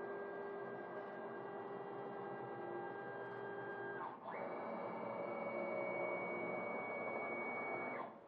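A Focus Athena Jet Plus DTG printer runs a nozzle check print, giving a steady mechanical whir with sustained tonal whines that briefly dip and shift pitch midway before continuing, ending abruptly.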